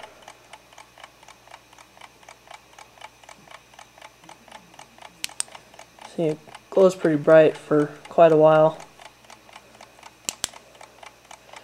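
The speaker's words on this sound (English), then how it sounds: "And you can hear it ticking" Old watch with radium-painted hands ticking steadily and close by, a quick even rhythm running throughout, with someone talking over it midway and a couple of sharp clicks.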